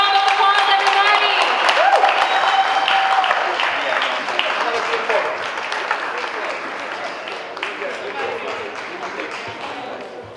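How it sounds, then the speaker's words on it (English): An audience at an African-Caribbean summit event breaks into loud, sustained applause, the clapping strong at first and then tapering off gradually, with voices cheering and calling out through the crowd. "Let's give one big round of applause, everybody."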